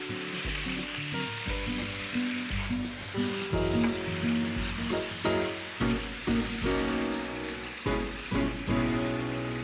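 Chicken sizzles loudly in a hot pan after apple cider vinegar is added, a dense steady crackle with rhythmic stirring scrapes and clinks, close and continuous.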